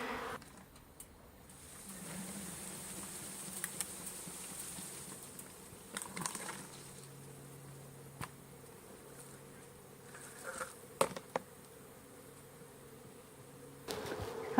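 A honeybee swarm hums and buzzes continuously at low level during a bucket capture, with individual bees droning close by and occasional soft taps and knocks.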